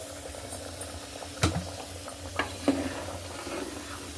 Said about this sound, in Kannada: ಸಾಂಬಾರು ಕುದೀತಾ ಐತೆ.